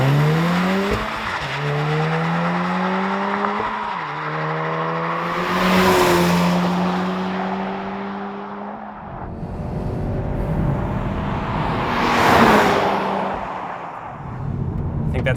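A 2017 Volkswagen Golf R launching hard from a standstill, engine revving through rising gears with brief tire noise, two bursts of loud roar as it accelerates, no talking.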